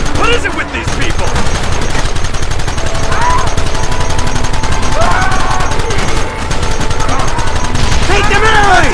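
Rapid, continuous gunfire in the Western game Red Dead Redemption, a loud close stream of shots with a few sharp ricochet-like whines, and shouting voices mixed in over the shooting.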